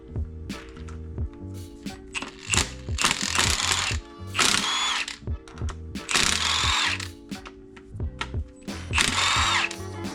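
Ratchet wrench loosening ARP cylinder head bolts on an engine during a turbo GTO teardown, with bursts of rapid close clicking alternating with short pauses and clanks, loud and without talk.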